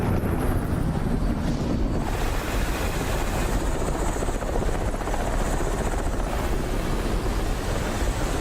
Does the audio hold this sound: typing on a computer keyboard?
no